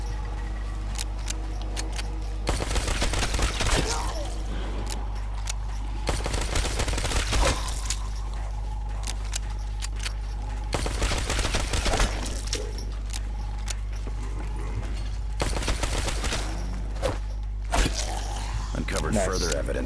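Bursts of automatic gunfire in a Call of Duty zombies match on the Origins map come in several loud, dense volleys separated by quieter stretches, with a constant low rumble beneath.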